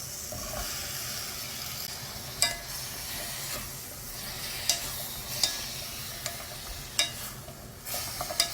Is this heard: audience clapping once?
no